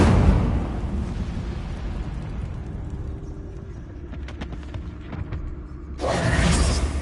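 A fire spell cast in the Hogwarts Legacy video game, with a rumbling burst-like roar that holds steady, thins out, then flares up again loud and bright near the end.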